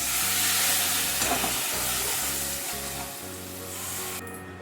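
Coconut and poppy seeds with spices are stirred in a hot pan, a close, steady sizzle and hiss with soft scraping movements that ends abruptly.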